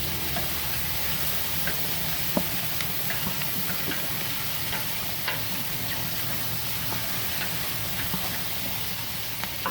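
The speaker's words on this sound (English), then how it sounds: "So let's dump those in there and let that start cooking." Sausage pieces sizzling and frying in a pot for a crab and shrimp boil, a steady loud hiss with scattered crackles and pops throughout.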